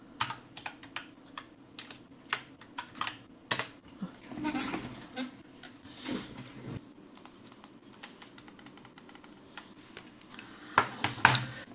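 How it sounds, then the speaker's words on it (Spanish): Crisp button clicks from a modded PS5 DualSense controller fitted with an eXtremeRate kit, tapped in quick, uneven bursts close to the mic, some rapid runs and a few sharper single presses over a faint background. "Y ahora todo tiene un clic muy satisfactorio."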